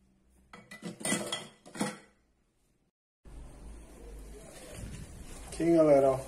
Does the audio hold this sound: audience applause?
no